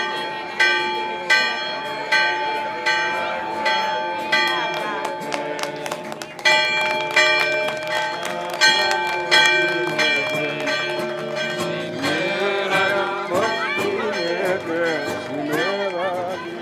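Church bells ring out in a village on Ikaria, Greece, with repeated loud metallic strikes in an uneven, lively pattern carrying on throughout, while voices talk faintly in the background.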